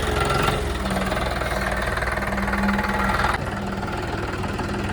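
A John Deere tractor engine runs steadily near a muddy farm field, a low rumbling idle with a knocking diesel rhythm that drops slightly in level partway through.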